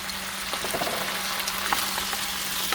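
Chicken pieces sautéing in a hot pan with a steady, close, dense sizzle and faint crackle throughout, no voices.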